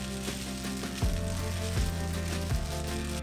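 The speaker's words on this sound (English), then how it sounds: "Mix everything together and stir fry for a few minutes." Saimin noodles with shoyu and cooked toppings stir-fried in a pan, a steady sizzle with rhythmic scraping and clanking of the utensil against the pan about every three-quarters of a second, close and fairly loud.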